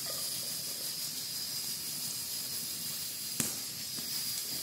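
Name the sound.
meat cooking in a pan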